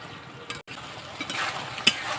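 A spoon scrapes and stirs soy sauce and red chili sauce together in a pan for chicken chow mein, with a few clinks and light sizzling, close and brief, no voices.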